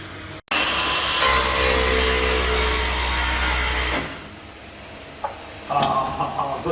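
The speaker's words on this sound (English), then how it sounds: "This is a TCT blade, so this will cut metal, wood, it'll cut everything." A TCT saw blade, the kind that cuts metal and wood, spins up loudly and bites through a workpiece with a sustained harsh buzzing whine for about three seconds, then winds down, followed by a few clunks and handling noises.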